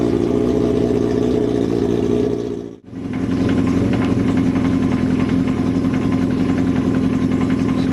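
A Kawasaki Z750 motorcycle engine runs steadily up close with its exhaust heating for the first time, a constant throbbing drone that cuts out for a split second before picking straight back up.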